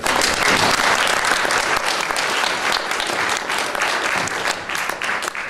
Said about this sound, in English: So I'd like to just give a round of applause to our three